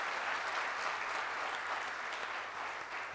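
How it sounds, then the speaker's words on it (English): A full audience breaks into sustained, dense applause honoring a mother at an inspirational talk, the clapping steady and loud throughout with no voices over it. "Can we just please have a round of applause for her?"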